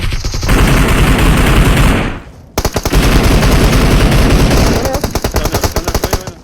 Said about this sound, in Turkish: Nerede nereden sıkıyor ki?